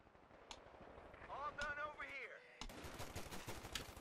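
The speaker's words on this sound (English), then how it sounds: "Grenadier trading fire with Lieutenant." Infantry gunfire in Company of Heroes as Wehrmacht grenadiers trade shots with a US lieutenant: sharp, scattered reports and bursts recurring through the clip, with a commentator's voice running over the battle noise.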